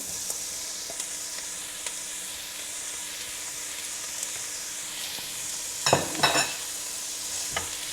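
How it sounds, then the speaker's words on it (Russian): Beetroot being stirred into a pot of home-style borscht: a steady soft hiss of simmering runs throughout, with a brief burst of spoon-scraping and stirring near the end, heard alone without talk. "Тоже хорошенько перемешиваем."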